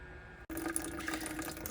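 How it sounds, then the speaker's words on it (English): Water drains steadily from a small electric hot water heater tank, a close, continuous hiss-and-gurgle flow that starts abruptly after a brief silence and runs on evenly with no talking. "All right, got the hot water tank draining."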